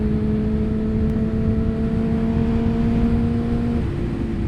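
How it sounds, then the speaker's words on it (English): Tuned 2005 Suzuki GSX-R 600 motorcycle with a Yoshimura exhaust holds a steady, humming drone that dips slightly near the end, heard without any talk. "And it sounds, that Yoshimura exhaust system. Damn! It sounds good."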